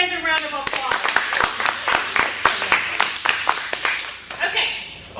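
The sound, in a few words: audience applause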